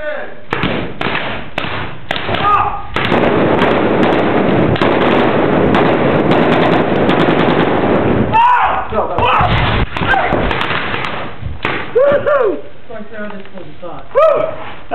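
Film-set gunfire, a burst of loud sharp bangs crowding the first half, then scattered shots, thuds and a dog barking amid voices as the scene continues.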